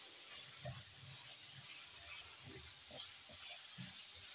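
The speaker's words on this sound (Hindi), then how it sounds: "चिकन फ्राई हो रहा है।" Boneless chicken frying with garlic and onion in a pan, a faint continuous sizzle with occasional soft stirring knocks, no speech.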